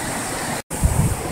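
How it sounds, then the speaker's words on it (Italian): Atlantic Ocean surf breaking on a white sand beach at Kotu in Gambia, a steady, loud wash of waves with wind rumble, briefly cut by a short gap of silence. "L'oceano Atlantico che spacca."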